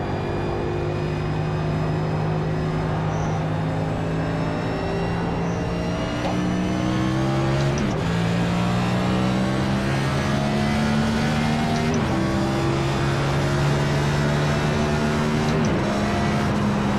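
A NASCAR Next Gen car in the iRacing sim at a raceway, its engine droning steadily at high revs for the whole stretch, with pitch climbing through gears and dipping sharply around two brief shifts.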